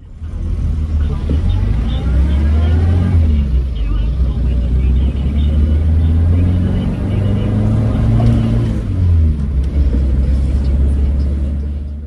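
A Morris Minor car accelerates during a 0 to 60 mph run, its engine rumbling and rising in pitch through gear changes, heard from inside the cabin.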